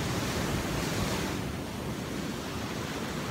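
Caribbean Sea surf washes onto the beach at Cancun, Mexico. It is a steady, loud, broadband roar of waves with some wind noise on the microphone, continuous and with no talk.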